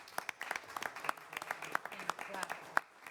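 Scattered hand clapping from a small group at a town council meeting, sharp irregular claps mixed with overlapping chatter and voices in the room.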